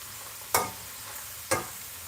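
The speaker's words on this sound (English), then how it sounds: "let's give these potatoes a toss" Diced potatoes with pork chorizo are tossed in a frying pan: two quick scraping, shuffling bursts about a second apart over a quiet, faint sizzle.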